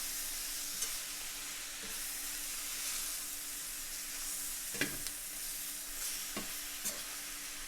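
Shrimp and vegetables in a stir-fry pan give off a soft, steady hissing sizzle with a few light clinks and stirring taps. The sound is faint and even, as if the pan is settling down.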